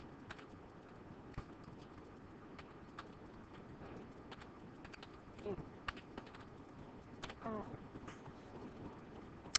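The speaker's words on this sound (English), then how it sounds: "So I'm going to type a sentence with homonyms." Faint, uneven tapping of keys on a computer keyboard as a sentence is typed, with small clustered clicks and pauses over a quiet room background.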